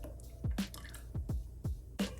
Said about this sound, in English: So now let's pour in your olive oil that you roasted your garlic in.